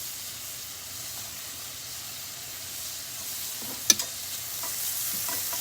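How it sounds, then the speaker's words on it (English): Vegetables frying in a pan for a tilapia meal, a steady low sizzle and hiss running throughout, with a brief sharper clatter of stirring near the middle. "So I'm going to put my vegetables in and let them get going."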